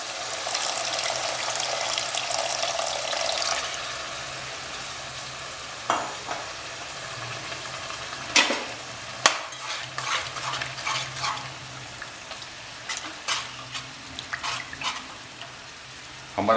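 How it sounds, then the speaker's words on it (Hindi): Chicken biryani masala fries in a pan and gets stirred, a soft sizzle up front and then a string of close scraping and clinking strokes from the spoon against the pan. "ये सेकंड टाइम भून रहे हैं हम इसे।"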